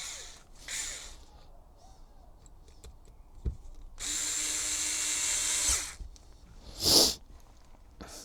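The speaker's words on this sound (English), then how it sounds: "I'm going to put my 4 screws back in" A power drill drives screws into an HPI Vorza S truggy in short whirring bursts, one brief, a longer steady run of about two seconds, then a quick final spin, with quiet handling clicks between.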